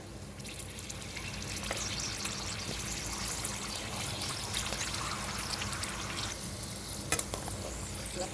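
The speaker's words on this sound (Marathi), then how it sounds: "फोडणीच्या आधी म्हटलं दोन तीन पापड तळून घेते" Papad fries in hot oil in a kadhai, giving a soft, steady sizzle and bubbling with faint clinks, fairly quiet and with no voices.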